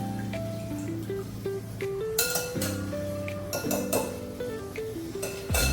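A metal spoon scoops drained chillies into a mixer jar, making repeated close clinks and scrapes against dishes over soft background music.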